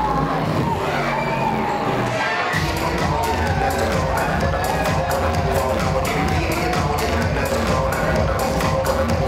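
Crowd at a fight night cheering for fighter Rachel, a loud continuous roar of cheers and shouts with rhythmic clapping bursts, sustained and dense throughout.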